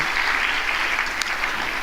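An audience at a music school's evening concert gives a full, even round of applause, a continuous hiss of many hands clapping throughout.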